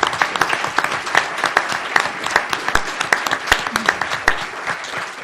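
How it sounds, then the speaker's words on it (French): Audience applause at a conference on the relocalisation of food, steady clapping from a seated crowd with a few sharper nearby claps standing out through the whole stretch. "Et puis on peut l'applaudir, je crois,"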